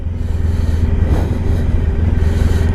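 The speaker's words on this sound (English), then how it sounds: "when you're riding a motorcycle." Steady low engine drone from a 1994 Honda ST1100 touring motorcycle on the road, a continuous rumble with wind noise that holds constant, close and loud throughout.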